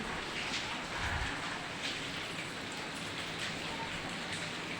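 Steady, dense rain hisses evenly throughout during a persistent Dasara-season downpour, with no voices.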